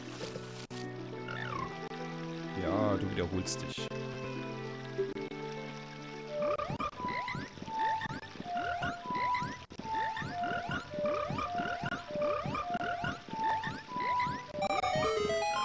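Frogs croak in the giant frog chorus of The Legend of Zelda: Ocarina of Time, with a run of rapid, bouncy pitched croaks that fill the second half over game music, after a short spoken line.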